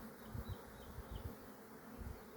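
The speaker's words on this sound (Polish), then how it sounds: "Pszczoły pracują równo i dostojnie." A steady, low buzzing of many bees close by, humming continuously with slight pulses and no voices.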